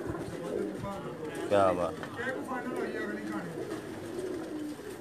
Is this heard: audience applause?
no